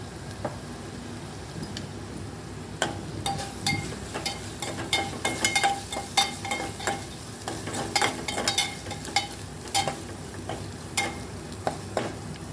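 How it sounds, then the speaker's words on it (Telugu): Goat offal with ginger garlic paste and turmeric frying in oil, a constant close sizzle with a busy run of clattering spatula stirs and taps against the pan through the middle. "ఇలా నూనెలో వేగాలండి బాగా ఆయిల్లో ఫ్రై అవుతుందండి"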